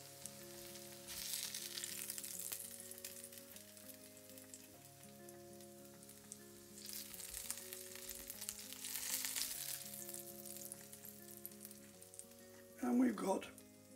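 Courgette fritters frying in a pan: a soft, steady sizzle under quiet background music, with a short louder crackle near the end.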